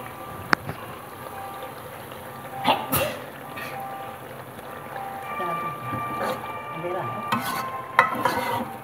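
Meat fries with spices in a pan, giving a steady sizzle punctuated by the scrape and clatter of a spoon stirring at irregular intervals, close by.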